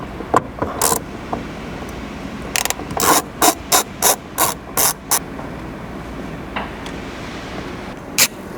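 A ratchet clicks in quick bursts as bolts are loosened on the sun visor of a fourth-generation Ford Ranger. The sharp ticks come close and loud in a run of about a dozen strokes, with a few isolated clicks before and after.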